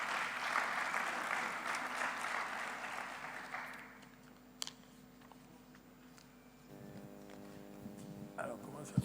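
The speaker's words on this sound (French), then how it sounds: "Applaudissements encore pour lui, s'il vous plaît." An audience at a local economic development conference breaks into steady applause after a talk, clapping loudly for several seconds before fading out into room quiet and a faint rustle.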